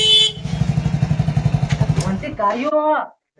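A motorcycle engine putters closer with a rapid, even throb, then cuts off as a voice speaks briefly.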